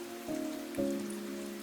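Steady rain pattering on an old garden wall, a soft continuous hiss of drops with a low sustained tone beneath, gentle and even throughout.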